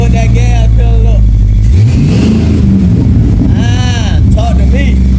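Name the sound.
LS swap engine revving via gas pedal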